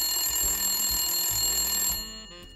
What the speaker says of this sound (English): ran across the room to answer a red telephone. The telephone ringing